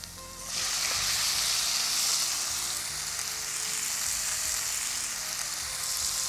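Tomatoes frying in a hot, spicy masala for a sabzi sizzle loudly and steadily at close range after a sudden start, with a dense hiss and no talk over it.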